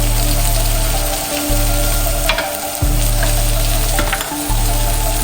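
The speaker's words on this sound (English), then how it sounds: "Now I'm gonna add some seasoning into the pot." Seasoning goes into a pot of curry corned beef frying on the stove, giving a loud, steady sizzle with intermittent stirring scrapes and brief dips as ingredients drop in. A low electrical hum runs underneath throughout.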